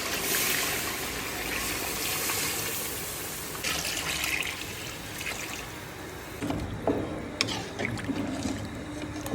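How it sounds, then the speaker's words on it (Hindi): Five liters of water poured into a cooking pot while making paya: a steady rushing splash of liquid runs for several seconds, then changes into lighter, uneven splashes and trickles. "अब इसमें 5 लीटर पानी डाल देंगे।"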